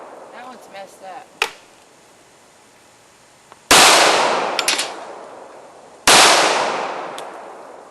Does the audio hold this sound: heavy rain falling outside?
no